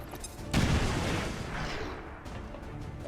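A regular frag grenade in XCOM Long War of the Chosen bursts with a sudden loud boom, then rumbles and decays into a lingering rolling tail.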